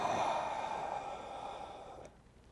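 A long, deep breath drawn during a yoga flow, a soft airy rush that is loudest at the start and fades gradually over about two seconds, heard alone and close.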